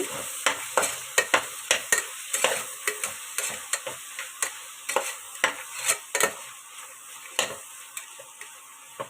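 Tomato rice with meal maker frying in a pan while a spoon stirs it, giving irregular sharp scrapes and clinks against the metal over a soft continuous sizzle, close up and without talking.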